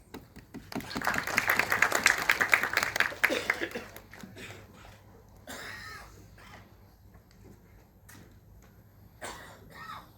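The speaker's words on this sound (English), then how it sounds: "Please welcome with an applause." Audience applause at a defence conference welcoming a speaker, loud clapping for about three seconds that fades out, followed by scattered coughs and quieter room sounds.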